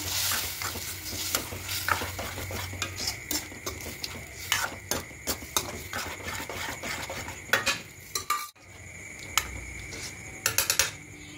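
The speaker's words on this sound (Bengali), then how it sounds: "এখানে ডালটা এবার দিয়ে দেবো। দিয়ে সব কিছু খুব ভালো করে মিশিয়ে নেব।" Boiled chana dal is stirred into a pot with a spoon, giving repeated metallic clinks and scrapes against the pot over a soft, steady sizzle, close and with no voices.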